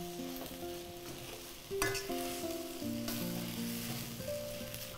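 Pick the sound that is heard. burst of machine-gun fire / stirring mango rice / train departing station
stirring mango rice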